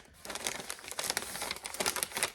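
A Tyvek plastic mailer crinkles up close, giving dense, crackly rustling bursts that run almost without a break for a couple of seconds.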